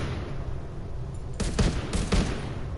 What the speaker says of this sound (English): It's me shooting way past my distance.